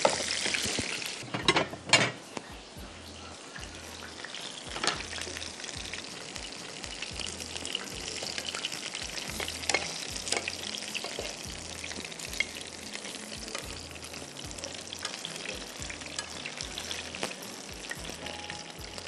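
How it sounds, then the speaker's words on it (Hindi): Steady sizzling and crackling of chicken roast masala frying in hot oil, with a few louder stirring clatters near the start, close by and no talk. "मैं यहाँ पे तेल लूँगी और उसमें इसका मसाला बनाऊँगी, चिकन रोस्ट का मसाला।"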